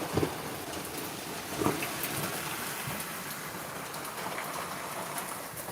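Heavy rain pours down steadily, a dense even hiss of drops striking surfaces with a couple of brief louder spatters, no voices.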